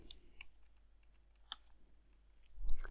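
Computer keyboard typing, faint scattered key clicks with irregular spacing and a slightly louder tap midway, quiet room background.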